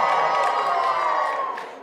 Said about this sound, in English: when you hear their names, you give a big cheer